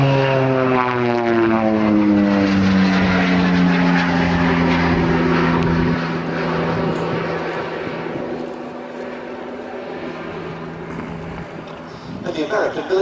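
A propeller-driven aircraft at the Shuttleworth Race Day airshow passes with a loud, droning engine note that slides downward in pitch as it goes by, then fades into steady background noise while people talk throughout.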